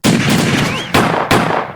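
Three sharp, loud gunshot-like bangs ring out in quick succession, each followed by a short decaying tail, with a faint whistle in between.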